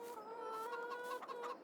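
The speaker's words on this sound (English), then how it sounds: "And here is our chickens." Chickens and roosters in a barn in the Farming Simulator 22 video game make a short run of faint, close clucks with a tonal, drawn-out quality and no voices over them.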